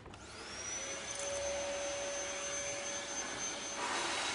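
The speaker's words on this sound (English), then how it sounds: "Now we have the vacuum cleaner powered surfboard or sledge." A vacuum cleaner powers a surfboard-style sledge in a science demonstration, its motor whirring up at the start and then holding a loud, steady roar with a thin whine on top, close and continuous, with no voices.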